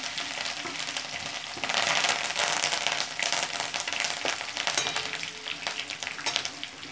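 Ginger-garlic paste and curry leaves hit hot oil in a pan, giving a loud, steady crackling sizzle that surges and stays dense throughout, with faint stirring.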